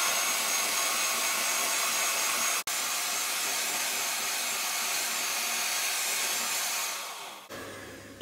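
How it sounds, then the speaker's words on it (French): Electric mixer whipping eggs with sugar until pale, a steady loud whirring drone running throughout with a brief dropout midway, then the motor winding down near the end. "Donc en fait je vais blanchir en fait les œufs avec le reste du sucre."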